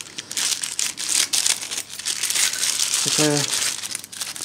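Plastic packaging from a small parcel shipped from China crinkles and rustles in bursts while it is unwrapped, close and fairly loud, with someone speaking briefly over it.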